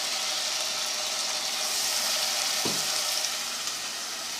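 Vegetables sautéing in a pan for macaroni give a steady, close sizzle that stays even throughout, with one brief knock about two-thirds of the way in.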